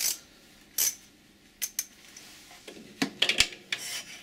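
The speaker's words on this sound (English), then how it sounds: "I'm going to take it off with the 10mm, this bolt here with the 10mm socket." A 10mm socket works a bolt on the air filter of a Clarke air compressor, giving sparse metallic clicks, scrapes and a few sharp taps, close and fairly quiet, with no talk.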